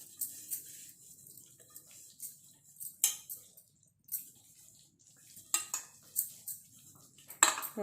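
A metal spoon scrapes and taps around a pan while spreading black grape halwa, a series of sharp, close clinks and scrapes in irregular bursts over near silence.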